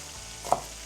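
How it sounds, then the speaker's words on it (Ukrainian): Liver fries in a pan with a faint steady sizzle. A single short stir or scrape cuts through near the middle. "А поки смажиться наша печінка"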